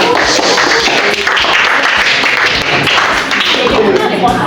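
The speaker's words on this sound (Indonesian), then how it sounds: "Udah, tepuk tangan." A group claps together steadily at an icebreaker name-introduction session, a dense, continuous wash of applause that fills the whole stretch at close range.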